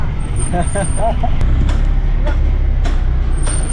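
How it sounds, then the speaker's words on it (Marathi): A Tata Magic passenger van drives along a road with a steady low engine hum and road noise, a few sharp clicks and rattles, and people talking inside. "फायनल मित्रांनो आपली गाडी चालू लागली आहे"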